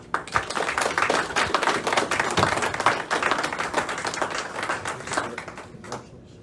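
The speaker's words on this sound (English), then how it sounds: "As the officers are now being seated, please give them a round of applause." Audience applause fills a Masonic lodge officer installation as newly installed officers take their seats, a dense, steady wash of many hands clapping close by that thins and fades toward the end.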